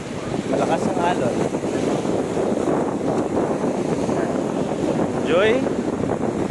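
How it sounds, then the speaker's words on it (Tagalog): Strong sea waves during a boat ride on rainy, cloudy water off Cebu, a constant loud wash of water and wind rushing past the microphone, with brief voices in the background. "malakas ang alon."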